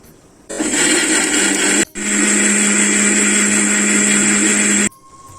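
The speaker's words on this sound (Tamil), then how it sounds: "அதோட ரெண்டு முந்திரியை சேர்த்து அரைச்சிக்கலாம்" A mixer grinder whirs loudly and steadily grinding coconut and cashews, pausing briefly once before resuming, then cutting off, leaving quiet background hum.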